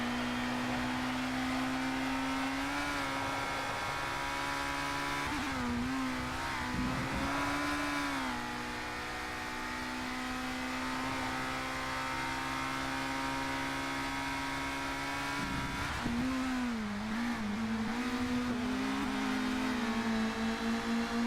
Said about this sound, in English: One thing they did get right on this game was the sounds of the cars.